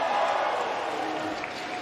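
Crowd cheering at a BLAST Pro Series Los Angeles 2019 esports match on Mirage, a steady wash of distant arena noise that slowly fades.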